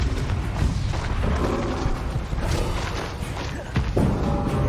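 In Hogwarts Legacy, a Confringo spell goes off with a deep, rumbling blast, booming thumps and crackling impacts rolling on for several seconds at close range.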